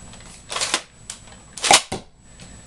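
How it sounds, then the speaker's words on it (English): A toy blaster fires a missile, a few sharp plastic clacks and a snapping pop arriving in quick separate bursts, close and fairly loud, with no talking. "We're going to start by firing the missile"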